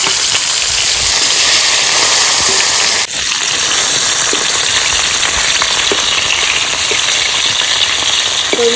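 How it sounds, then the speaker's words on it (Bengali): Fish frying lightly in hot mustard oil in a kadai gives a loud, steady sizzle and crackle that fills the whole stretch, with small pops and the clink of a utensil near the end, and nobody talking. "ওই মাছগুলো একটু হালকা করে ভাজা দিয়ে নেবো"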